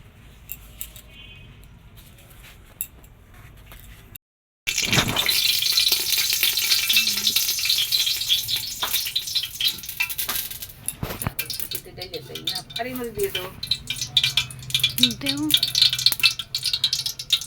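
Khichuri cooking in a pot on the stove, frying and being stirred, with a steady sizzle and sharp metallic clinks and scrapes of the spoon against the pot, while people talk nearby.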